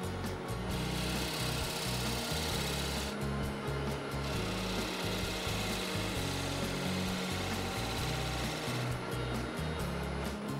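A steady, continuous rasp of a tool cutting at a slight angle into a spinning wooden hollow form on a lathe, with a low motor hum running underneath throughout.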